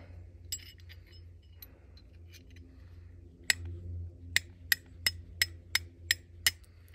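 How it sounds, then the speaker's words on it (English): A fire striker scraped against a rod at a campsite, giving a run of about eight sharp, close metallic clicks in steady rhythm after a few fainter scrapes, over quiet outdoor background. "Got a couple of sparks. Let's compare it to this striker."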